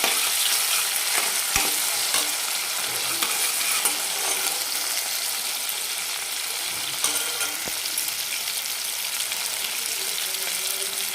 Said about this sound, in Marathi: हिरवी मिरची आणि लसूण टाकून ठेचा वाटलेला आहे तो टाकते एक मिनिट जर फक्त सगळं साहित्य आपल्याला परतून द्यायचं